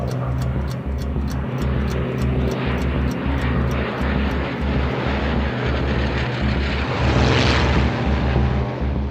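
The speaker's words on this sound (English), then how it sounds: "observers spot the first wave of Luftwaffe aircraft heading across the channel" Multiple WWII Luftwaffe aircraft flying overhead toward London across the Channel, a loud, steady engine drone with a pulsing propeller beat that swells slightly near the end, with no speech.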